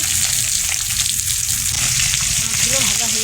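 Steady, close hiss and sizzle of fish frying in oil in a pan in a home kitchen, continuous and fairly loud, with a faint voice-like tone near the end.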